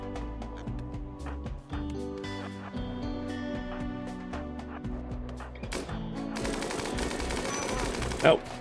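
Gunfire in the colony game RimWorld, a rapid rattle of shots mixed with music and game effects, running steadily through the scene with a louder burst near the end.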